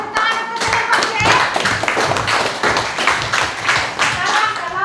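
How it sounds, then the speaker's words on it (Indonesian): A classroom group applauds a presenter after a lesson on talents given to people, dense hand clapping that stays loud and steady for several seconds, with children's voices mixed in. "Kita berikan tepuk tangan untuk Bapak ya"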